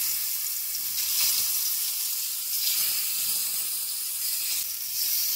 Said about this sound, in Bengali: তেলটা আমার গরম হয়ে গেছে, এবার আমি শিমগুলো দিয়ে দিচ্ছি